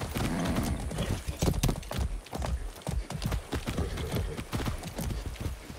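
Horse hooves clip-clop at a steady trot in the video game Far Cry 6, close and rhythmic with a continuous run of hoofbeats and no talk over them.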